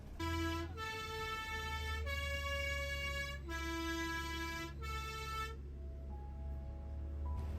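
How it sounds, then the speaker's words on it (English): A Swiss mountain bus plays a multi-note horn tune on a steep descent through the Alps, the bright tonal notes stepping in a repeated melodic pattern over a low steady engine drone, ending with softer distant notes. "The honking tune was to alert any oncoming traffic."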